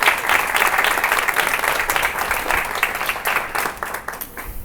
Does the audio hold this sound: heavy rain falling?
no